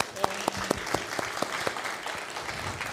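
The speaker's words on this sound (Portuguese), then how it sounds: "Então, mais uma salva de palmas agora" Audience applause for a talk on planning a healthy menu, a steady wash of clapping from a crowd with several sharp, evenly spaced claps standing out near the front.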